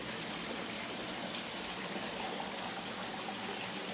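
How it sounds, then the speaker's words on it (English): A pump-fed garden creek that circulates water back around a turtle and goldfish pond gives off a steady, soft rushing trickle, continuous and even with no other sounds. "runs water down through the creek, runs it on back around"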